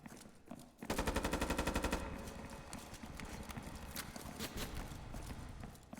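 Heavy gunfire punching through walls in a competitive first-person shooter match, a rapid chattering burst followed by scattered shots and steady shooting that is moderately loud and fairly close.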